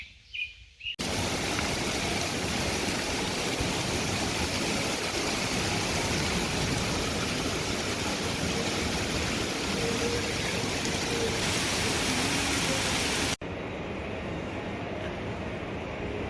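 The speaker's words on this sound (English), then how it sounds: "and it is raining for sure out there." Rain falls outside in a steady, dense downpour that starts abruptly and stays loud and unbroken, with a slight drop in level toward the end.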